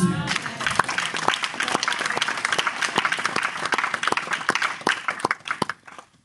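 A church congregation breaks into applause, a full wash of clapping from many people with scattered louder claps, tapering off and fading out toward the end.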